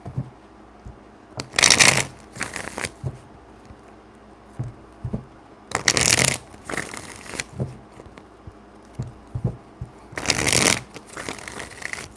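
Tarot cards are shuffled in three separate bursts of quick riffling patter, close and crisp, with quiet pauses and faint handling noises between them.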